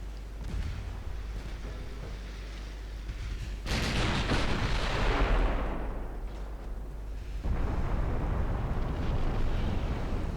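Heavy naval gunfire from warships in Ultimate Admiral Dreadnoughts, including 6-inch and 4-inch secondary guns on a destroyer: a steady low rumble broken by loud booming salvos near 4 s and again near 7.5 s, with no talk.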